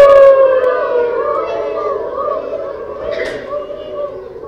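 A group of children at a K-5 school reading event imitates a siren with their voices, a loud rising-and-falling wail from many voices that gradually fades, with a brief burst of chatter near the end.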